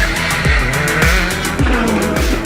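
A rally car roars loudly through the tight Chapelle village hairpin during the 34th Rallye Vosges Grand Est, engine revving hard with repeated gear-change bursts and tyre squeal, close to the listener.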